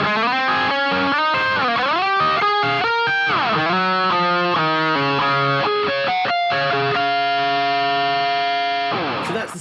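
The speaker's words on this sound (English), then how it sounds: "So that's the sound of the guitar" Distorted electric guitar played through a Boss GT-1000 Core into a Boss SY-200 synth, loud and saturated, with sliding bent notes and chords ending in a long sustained ringing note.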